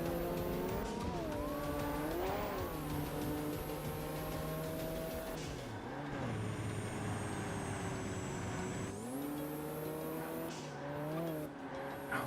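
A Ford FR100 engine revs loudly while racing in Ford Racing 3, its pitch climbing and dropping through gear changes, with tire squeals in the corners.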